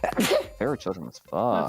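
A person sneezes once sharply at the start, close to the microphone, followed by casual talk from others on a live art stream.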